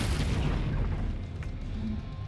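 An explosion in Baldur's Gate 3 booms with a heavy low rumble at the start, then fades into a lingering roar with a few faint crackles.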